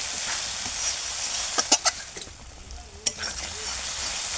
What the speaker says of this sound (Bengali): দিয়ে মশলাটাকে একটু ভালোভাবে আর একটু কষিয়ে নেব